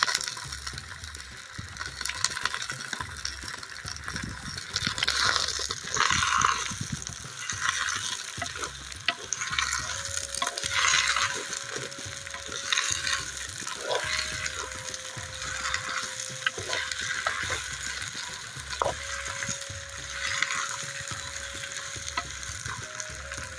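Onion, eggplant and other vegetables sizzle in a hot pan for a long stretch, with scraping and stirring clatter now and then, and no talking.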